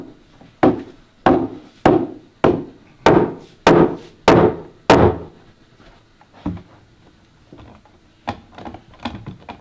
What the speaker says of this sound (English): Pound them together.